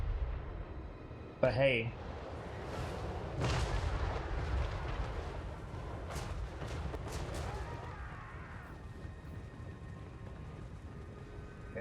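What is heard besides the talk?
artillery barrage in Total War Warhammer 3 video game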